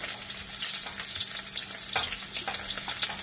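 Carrots dropped into hot oil for pork chop afritada sizzle and crackle steadily, with bursts of popping and spattering rising over a continuous frying hiss, close and fairly loud with no talking.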